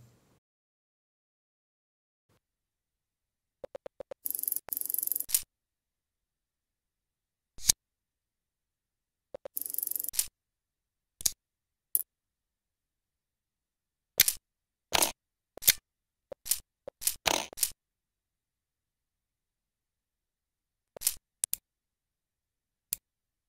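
Mac OS 9 system action sounds played in an emulator: short, sharp clicks and snips in scattered bursts separated by silence, some clustered in quick runs, others single, all fairly faint.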